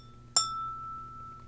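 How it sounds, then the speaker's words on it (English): Finger flicking a crystal drinking glass: one sharp clink followed by a clear, sustained high ring that slowly fades, close and alone. "Flick it, and it rings, that's crystal for you."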